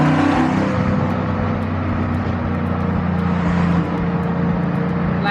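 A classic car engine hums loudly and steadily while the car drives along an expressway, with a slight rise in revs partway through and no talking.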